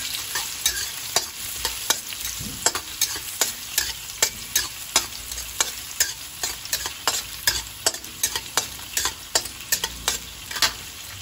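Fish frying in a small amount of oil in a pan, with a steady sizzle and regular, rhythmic stirring or scraping clicks close by throughout.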